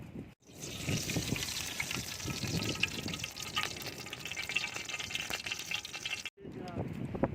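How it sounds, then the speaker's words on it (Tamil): Cooking oil is poured into a pan for a snake gourd and egg fry, making a soft, steady liquid trickle and hiss at moderate level while a voice speaks over it. "எண்ணெய் ஊற்ற போகிறேன்."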